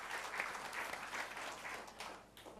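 A church congregation at a GBI service gives a round of applause: steady, fairly soft clapping from many hands that holds, then thins toward the end.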